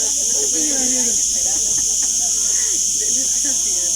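Cicadas in the countryside keep up a loud, continuous high buzzing, steady throughout, while someone speaks underneath.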